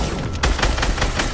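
Loud, close gunfire in a zombie shooter video game, a quick cluster of sharp shots fired in rapid succession over about a second.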